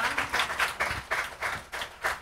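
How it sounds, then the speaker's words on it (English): An audience at a Buddhist group practice breaks into applause, dense claps pulsing in quick, even waves at moderate loudness, with no voices over them. "let's give a huge round of applause"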